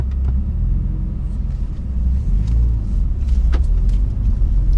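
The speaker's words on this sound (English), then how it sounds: "I'm in the driver's seat now, so I'll take this car down the nice windy route we have here and have some fun with it." A 2017 Porsche Carrera S with a turbocharged engine driven along a winding road, heard from inside the cabin as a steady low engine and road rumble with no talking.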